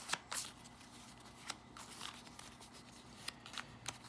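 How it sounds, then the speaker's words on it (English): Quick riffling and snapping of character cards for a board game being shuffled, a few sharp flicks standing out over a quiet room. "You're going to take these character cards, you're going to shuffle them up."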